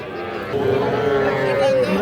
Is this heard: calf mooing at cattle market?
yes